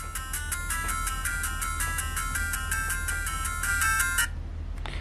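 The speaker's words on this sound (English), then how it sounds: "We got Mario Brothers, game one." Bright, rapid chiptune notes from a Mario Brothers game play through an iPhone game console case, a steady bouncy electronic melody for about four seconds before stopping abruptly, with no talk.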